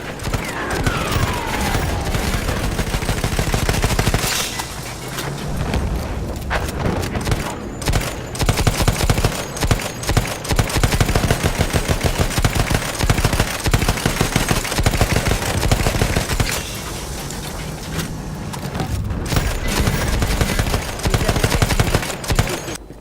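A fixed mounted machine gun fires in a Battlefield-style PC shooter, loud sustained bursts of rapid automatic gunfire with brief pauses between volleys, close and dominant throughout.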